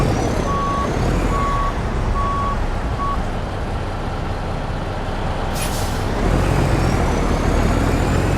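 Wheel loader in reverse gear, four evenly spaced reversing beeps over a steady low diesel engine rumble, followed by a short hiss of air release.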